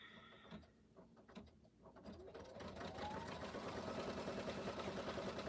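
An embroidery machine sews a bean stitch, starting with a few hesitant clicks before settling into a steady fast mechanical whir and needle chatter that grows louder and continues alone.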